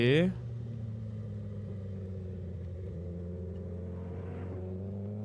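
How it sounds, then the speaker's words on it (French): A Honda CBR 1000 RR motorcycle gives a sharp, loud throttle blip at the start, then settles into a steady, low, droning engine note that holds nearby for several seconds. "Beaucoup trop de gaz d'un seul coup avec une moto trop puissante"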